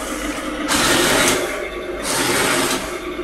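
An HL King Tiger v6.0S RC tank's motor whirs at high speed, a loud steady mechanical buzz rising in two surging bursts with brief dips between, close and alone.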